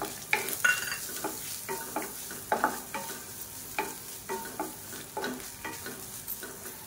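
Grated coconut roasting in a pan, with a soft sizzle under repeated stirring scrapes and light clinks. The sound is close and moderately quiet, and nobody talks.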